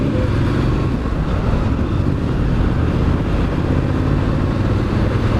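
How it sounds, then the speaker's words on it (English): A Triumph Street Scrambler motorcycle with stock exhaust rumbling steadily at cruising speed, loud and close, with wind and road noise mixed in and no talking. "Listen. Wow, that sounds good. Yeah, it's nice. That's the stock exhaust."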